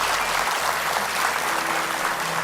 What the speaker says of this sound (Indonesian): Dan beri tepuk tangan pokoknya.